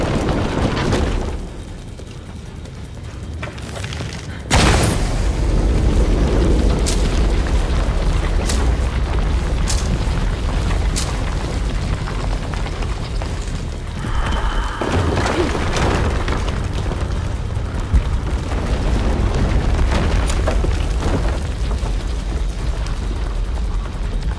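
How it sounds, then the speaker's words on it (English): Explosion in the Shadow of the Tomb Raider forge mission, a sudden loud boom that raises a counterweighted platform, followed by a long rumbling, grinding mechanical roar that carries on through the clip. "Another explosion would raise the platform."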